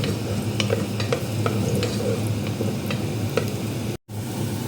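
Garlic stirred and sizzling in a hot pan of oil for Filipino chicken tinola, with a steady frying hiss and repeated scraping stir strokes, ending in a brief silence.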